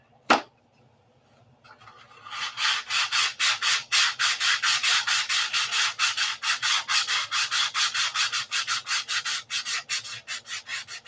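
A sharp knock, then rhythmic back-and-forth strokes of 180-grit sandpaper rubbing on wood, close and loud, each pass a distinct scratchy swish in a fast, even series that continues to the end.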